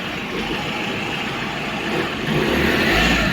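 An Opel Zafira B engine runs steadily nearby, then rises in level toward the end as the car pulls off, with a low rumbling drone throughout.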